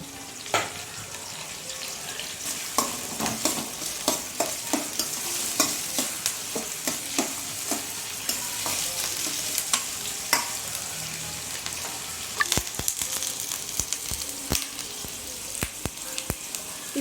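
Curry leaves sautéing in a pan for a Tamil chicken curry gravy, giving a steady close sizzle and crackle with scattered sharp pops and stirring scrapes throughout, no voices.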